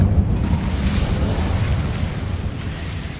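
An Incendio fire spell bursts out in Hogwarts Legacy, a loud, rumbling roar of flame that surges at the start and keeps churning steadily throughout.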